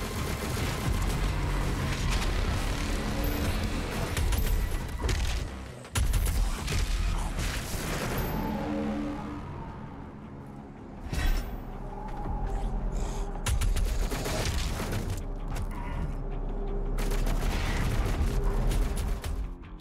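Fully upgraded shotgun blasting in Doom Eternal, dense loud gunfire and booming impacts layered over constant game combat noise and music, with repeated heavy shots throughout.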